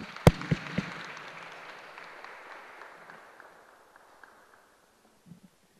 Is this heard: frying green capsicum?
no